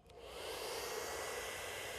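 A hair dryer blows with a steady, loud rushing whoosh that starts abruptly and holds constant throughout, close to the listener.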